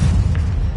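Bombarda spell explosion in Hogwarts Legacy, a loud, deep booming rumble filling the whole brief moment.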